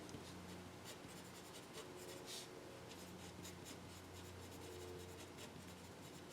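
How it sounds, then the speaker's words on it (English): Marker or chalk scratches steadily across a board as math on rational exponents is written out during a lecture, a continuous soft rubbing with no talking. "So I'm going to write this"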